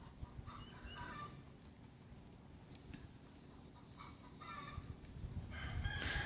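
Homestead chickens outdoors, with a rooster crowing and hens clucking in scattered calls at moderate distance over faint rustling background noise, with no voices.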